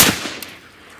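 A single loud suppressed shot from a modernized .45-70 lever-action rifle firing supersonic loads, a sharp crack with a short fading tail outdoors.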